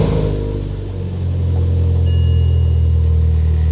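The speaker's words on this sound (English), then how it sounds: "Now let's start the engine." A car engine turns over and catches, rising into a steady, loud, close idle rumble that holds to the end, with no voices.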